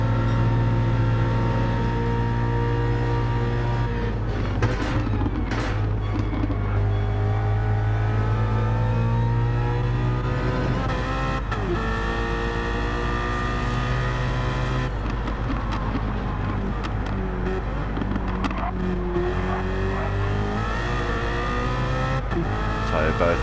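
Race car engines in Gran Turismo 7 roar continuously through an endurance race with BMW M3 cars, revving up and down through gear shifts and short-shifting, loud and steady with overlapping engine tones and no talking.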